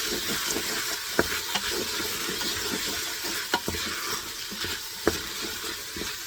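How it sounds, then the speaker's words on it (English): Vegetables, onions and spices being stirred with rice in an Instant Pot: a close, steady hiss with repeated spoon scrapes and light knocks against the inner pot, no voices. "I put all the veggies inside, and I'm stirring it."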